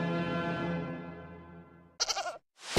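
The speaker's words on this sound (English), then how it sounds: "We have a goat here." A goat bleats in one long, loud, wavering call that slowly fades, followed by a few short, harsh bursts, with no talking.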